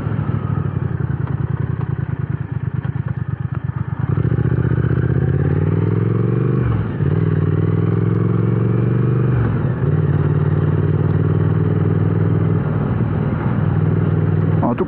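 A motorcycle being ridden, its engine throbbing loudly and close with clattering pulses at first, then a smoother drone that rises and falls through several gear changes amid road and wind noise.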